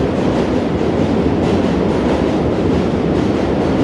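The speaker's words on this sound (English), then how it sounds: "Just ignore the train noise." A train rumbles past steadily and loudly in New York City between Brooklyn and Manhattan, with continuous rolling wheel noise and a faint clickety-clack filling the whole stretch.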